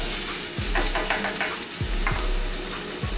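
Shallots and garlic sizzle steadily in a pan, broken by several distinct scraping stir strokes at regular intervals, close and fairly loud with no talking.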